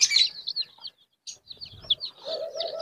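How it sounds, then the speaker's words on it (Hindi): Golden Misri chicks peep and cheep in rapid high bursts, several at a time and close by, from a group of many chicks kept in a box at a mini zoo. "काफ़ी ज़्यादा चूजे हैं गोल्डन मिश्री के।"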